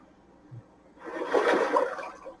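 Rushing water at a water intake in Tom Clancy's Ghost Recon Breakpoint, a swelling whoosh that rises after a second and surges like a flush, with no talk over it.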